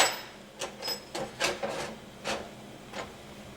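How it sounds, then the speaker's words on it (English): A nut is tightened down to seat a Corvette rear wheel bearing, giving a series of short, close ratcheting rasps in quick irregular bursts, each lasting a fraction of a second. "So you just go ahead and put the nut on and tighten it down and seat that bearing all the way against"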